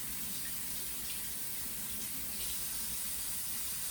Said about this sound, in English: put some more hot water in it, let it soak back up a few times, rinse it back out.